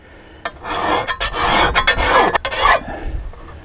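Hand file rasps across a garden shovel blade at about a 15-degree angle, giving loud, close scraping strokes in quick succession with short gaps between them.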